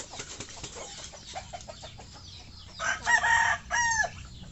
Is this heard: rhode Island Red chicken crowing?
yes